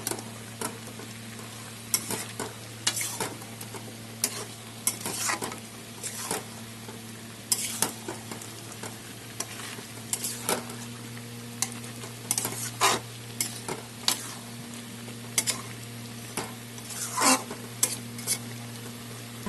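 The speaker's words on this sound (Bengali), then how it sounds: "এখন সেগুলো সব একসাথে ভালো করে মিক্সড করবো" Chicken curry being stirred in a pan with fried spices such as cumin, coriander and fennel: repeated sharp spoon scrapes and clinks over a steady low sizzle, close and alone without talk.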